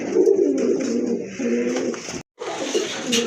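Pigeons coo close by in low, throaty, repeating calls that continue almost without pause, broken only by one brief silence.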